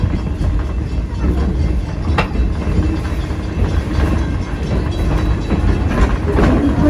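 A passenger train at Edison rolls steadily along the rails, a loud continuous rumble with faint clatter and a brief high squeal, heard from on board throughout.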